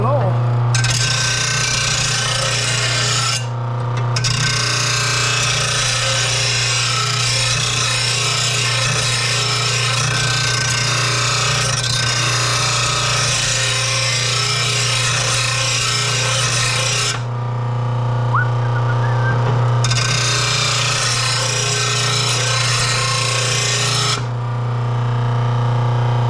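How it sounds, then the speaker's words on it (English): Metal rasping and grinding as a Honda push mower blade is sharpened, a steady loud scraping with a constant low hum, broken by two short pauses, and a voice speaking over it. "Sharpen the blade, sharpen the blade."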